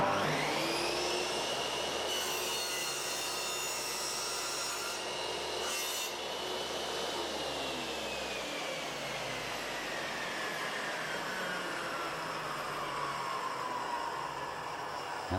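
A Triton Workcentre power saw set up for a compound mitre cut in wood runs with a steady motor whine and a long, continuous cutting rasp whose pitch slowly falls as the blade works through the timber, close and alone without talk.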